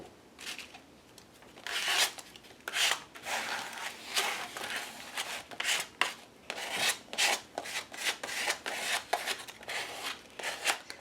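Sandpaper rubbing across an altered book page in a mixed-media art project, a steady series of short, dry rasping strokes close up, repeated rhythmically with no talk.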